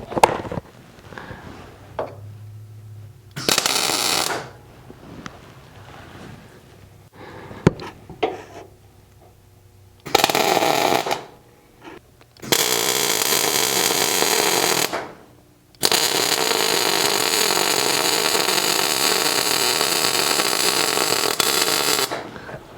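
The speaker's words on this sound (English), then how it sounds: "I'll just hold this in place now and try and weld it in without moving." Welding a part in place, with bursts of crackling, buzzing arc noise coming in several stretches of a few seconds each, separated by quieter pauses. The longest bursts run steadily near the end.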